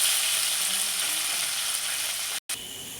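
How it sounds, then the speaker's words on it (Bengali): Small mola fish frying in hot oil in a home kitchen, a steady soft sizzle with faint crackle throughout, briefly cut off near the end. "আমার তেলটা খুব সুন্দর গরম হয়ে গেছে, এইবার আমি ময়া মাছগুলো ভেজে নেব।"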